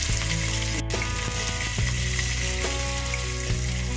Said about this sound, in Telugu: ఇలా గ్రీన్ కలర్ ఉండే బఠానీని వేసుకోవాలి. వేసుకొని కొంచెం ఫ్రై చేసుకోవాలి.